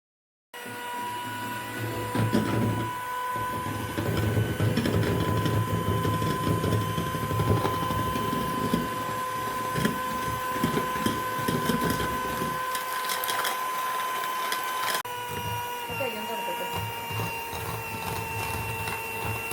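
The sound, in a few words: electric mixer beating egg whites with powdered sugar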